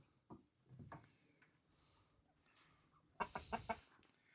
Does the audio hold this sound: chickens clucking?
yes